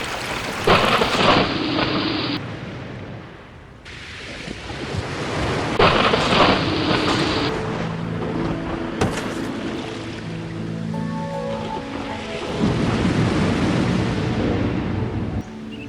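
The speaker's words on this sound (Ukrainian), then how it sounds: "Зараз буде злива." In an animated cartoon, heavy rain pours steadily while thunder rumbles and cracks repeatedly, some claps close and loud, others rolling in the distance.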